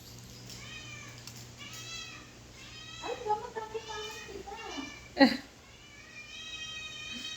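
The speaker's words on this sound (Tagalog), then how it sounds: "Maingay ng pusa na yun." A cat meows repeatedly in drawn-out, wavering cries, with a louder yowl near the end, while people talk quietly in the background.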